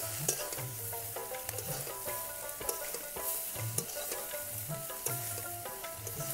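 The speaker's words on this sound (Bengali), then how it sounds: "এইভাবে নেড়েচেড়ে আরও কিছুক্ষণ সময় ধরে রান্না করে নিব।" Potato-leaf greens stirred and fried with browned garlic in a pan, with a continuous close sizzle broken by repeated scraping strokes and a few sharp clinks of the utensil, and no talking.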